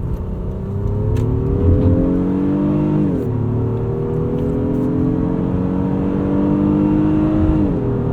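A 2023 Honda Pilot in sport mode with its 10-speed automatic pulls hard from inside the cabin, the engine note rising steadily and dipping at two gear shifts over a constant road roar.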